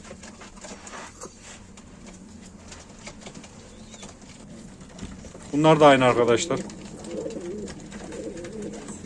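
Nail Kara play pigeons coo in a loft during a live auction, a low steady murmur with a louder burst of calls and some wing flutter near the middle, while someone talks over them.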